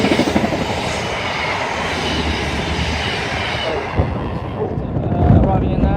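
Three coupled sets of Class 159 diesel units pass through Wimbledon station on a service from Exeter St David's, a loud close rumble with wheel clatter and rail noise easing toward the end.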